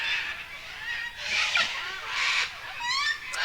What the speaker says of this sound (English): A few ducks on the water there flying off.